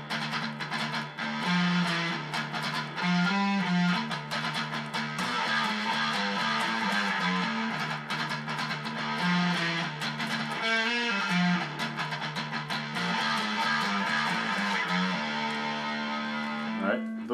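A distorted metal guitar plays a riff from a song, dense and loud throughout, with chugging low notes and shifting melodic figures.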